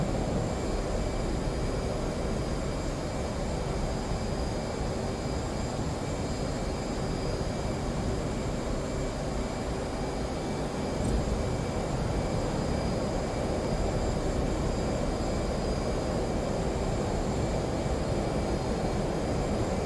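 A jet aircraft's engine in the DCS World flight simulator drones at high altitude, a steady, continuous roar with no break across the whole stretch.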